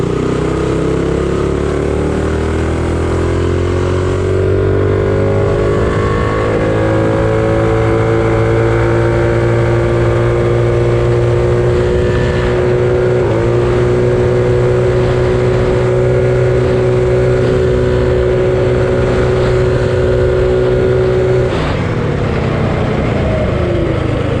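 A Mega Moto 212 minibike engine drones loud and steady at full throttle during a top speed run, holding a constant pitch with a brief dip near the end.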